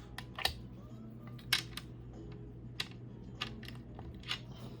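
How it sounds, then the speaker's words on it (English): Several sharp, sparse clicks and taps of a blade cutting the excess polymer clay off a kaleidoscope cane, spaced a second or so apart over a low steady background hum. "I'm gonna just cut the excess off"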